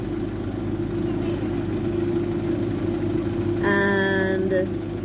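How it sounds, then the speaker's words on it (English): A stopped truck carrying children idles nearby with a steady, rumbling engine drone throughout, and a brief tonal whine or horn-like tone rises near the end. "a truck has just stopped here with children and the engine is rather noisy"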